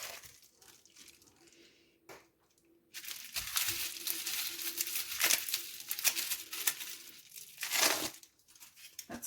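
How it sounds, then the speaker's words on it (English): Bubble wrap handled during homemade gelli printing gives a steady crinkly rustling and crackling that starts a few seconds in and runs close and fairly loud to the end, with no talking. "Going to do my bubble wrap again, so let's do that down the bottom."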